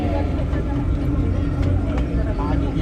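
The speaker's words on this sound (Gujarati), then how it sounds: "ચલો અમારી બોટ ચાલુ થઈ ગઈ છે." A boat engine runs with a low, steady rumble on the Narmada river during a pilgrimage walk, with people talking over it.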